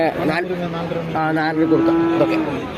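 An Andhra buffalo lets out a long, loud moo at a busy cattle market, with people talking nearby.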